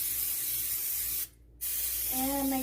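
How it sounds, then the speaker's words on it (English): Butter-flavored cooking spray hisses in a steady close burst into a cake pan for a chocolate cake, stops briefly, then resumes as a second spray. "So I'm gonna spray this with some butter spray."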